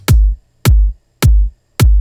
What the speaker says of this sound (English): Here's 2 kick drums layered to give us our basic groove